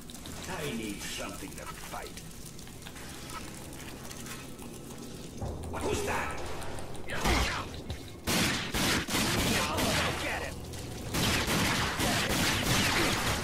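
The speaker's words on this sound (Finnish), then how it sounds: "Jee, me saatiin ammua vähän jonnekin." Gunfire in the first-person shooter RAGE, with scattered shots and bursts growing denser toward the end, mixed with game sound effects under steady talking.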